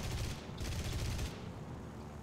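Aircraft machine guns fire in a World War II air-combat game, Soviet aviation at rank one, a dense continuous burst of rattling shots that eases off midway, loud and close with no voices over it.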